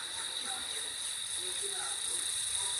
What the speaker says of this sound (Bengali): আমাদের এখানে না দিনের বেলায় ঝিঝি পোকা ডাকে